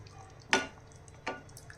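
Two short scraping strokes of a spoon against a metal kadhai while mixing paneer masala curry, spaced about a second apart, close and fairly quiet.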